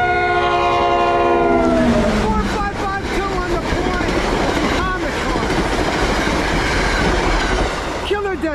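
A train horn blares briefly, then an NJ Transit ALP45-DP locomotive hauling Comet passenger cars rumbles past through Middlesex with steady clattering wheels and occasional squeals, loud and close throughout.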